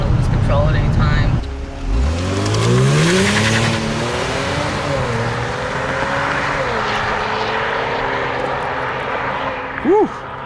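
A 2018 Kia Stinger GT1 engine revs up and accelerates, its pitch climbing and then holding a strong drone before easing off, heard loudly from inside the car with people talking.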